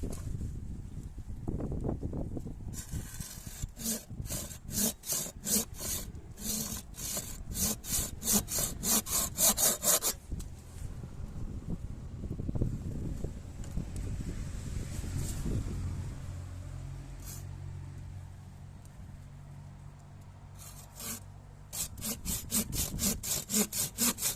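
A Vitals GS-360-01 garden pole saw cuts through wood in fast rasping strokes, a burst of sawing, a pause with wind noise, then more rapid strokes, close to the microphone.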